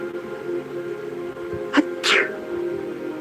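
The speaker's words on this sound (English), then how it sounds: "sneezed a few times consecutively when she reached her apartment door" Two short sneezes in quick succession, a woman's sneezing in a narrated audio-story scene, heard fairly close over a steady low background hum.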